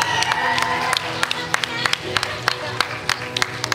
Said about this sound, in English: can we give a big round of applause to Miss Child